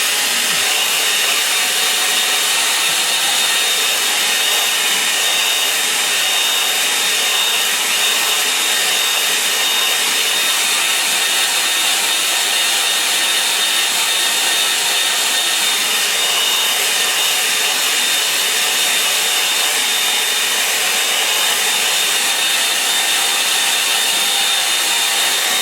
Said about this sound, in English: what I'm going to do now is just to take off the shine of the paper with the hairdryer